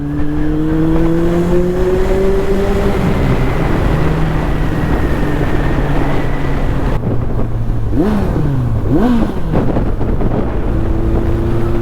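A Yamaha FAZER 1000 motorcycle pulls hard in sixth gear without downshifting, its engine note rising steadily and loud under heavy wind rush, then a series of quick revving swells near the end.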